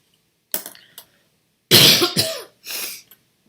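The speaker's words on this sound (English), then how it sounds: "Sorry about my coughing." Several harsh coughs and throat clearings from one person nearby: a small hack first, then a heavier burst of two coughs, and one more after a pause.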